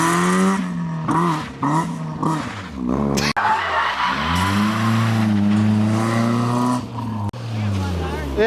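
A drift car slides with loud, wavering tire squeals and a revving engine, the screech bending in pitch and cutting off abruptly a couple of times, close up.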